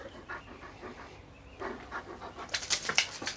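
Dog panting after a walk on a hot summer day, quick rhythmic breaths close by that grow louder and more rapid toward the end, with no one talking.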